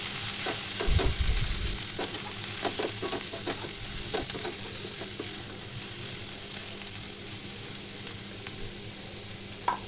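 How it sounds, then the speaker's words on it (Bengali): Chopped spring onions stirred in a hot wok for a potato curry, a steady sizzle of frying with scraping stirring strokes and a brief low thump near the start, close and continuous with no talking. "স্প্রিং অনিয়নটা কড়াইতে দেওয়ার পরে আমি খুব ভালোভাবে এটাকে নাড়াচাড়া করব"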